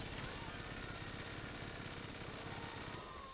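Rapid automatic gunfire in GTA 5 rattles on steadily and loudly for the whole stretch, a dense continuous burst with no break.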